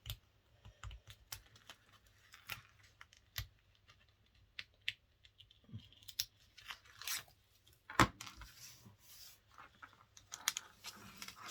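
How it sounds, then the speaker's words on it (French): Protective backing peeled off a strip of adhesive tape during a paper album craft, with soft close tearing and crackling sounds in quiet bursts, plus a sharper rip near the middle. "On va décoller notre protection de scotch."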